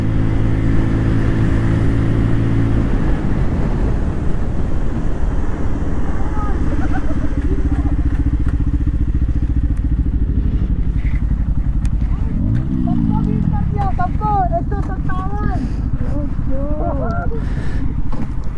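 Motorcycles including a CBR 250R, Pulsar N250, R15M and Pulsar F250 run a top-end drag race, their engines droning loud and close under heavy wind buffeting, with revs rising and shifting and someone talking over it.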